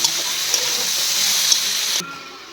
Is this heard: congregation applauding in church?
no